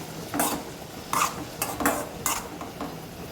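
Onions sauté in a pan for a squid roast, with a few scraping stirs of a utensil against the pan at irregular intervals over a faint sizzle, close and fairly quiet.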